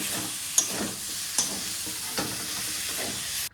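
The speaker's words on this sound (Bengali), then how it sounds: "আর এই যে দেখো সমস্ত মশলা দিয়ে আলুটাকে কষিয়ে নিচ্ছি।" Potatoes sizzle and crackle in a hot pan as they are stirred with spices, with steady frying noise and several scraping stir strokes spaced about a second apart.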